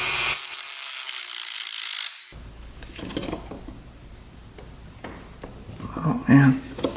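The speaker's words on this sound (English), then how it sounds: "See if we can cut a couple slits in the screws." A cutting tool slits stripped screws on a used $300 ATV, giving about two seconds of loud, harsh grinding up close, followed by quieter scraping and handling while people talk.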